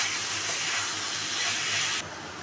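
Chicken sautéing with spices in a pan gives off a continuous close hissing sizzle, which drops suddenly to a quieter level just before the end.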